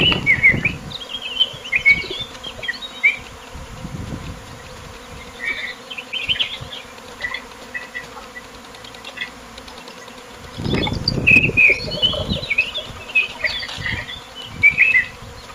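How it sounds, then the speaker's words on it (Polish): A swarm of honey bees buzzes steadily outdoors, a close continuous hum that swells at times, with bird chirps scattered above it. "pszczoły będą chciały zamieszkać na chondraskach i nie mamy ula"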